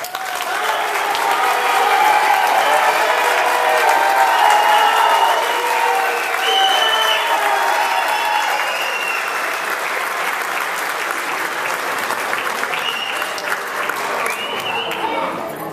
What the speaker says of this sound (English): let's conclude our ceremony with one more round of applause for our outstanding students